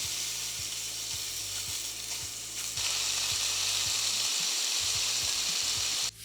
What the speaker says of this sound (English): Let's start frying these chicken pieces.